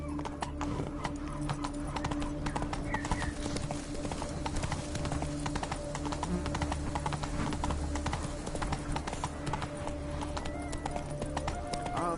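Horse hooves clip-clop at a steady trot in the Witcher 3: Blood and Wine game, a continuous close rhythmic clatter with faint ambient game sound underneath.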